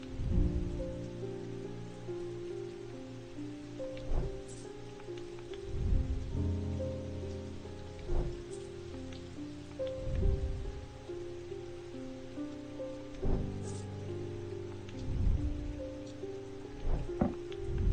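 Steady rain falls in a video game, a soft continuous patter under layered ambient music with periodic low thumps; no talking.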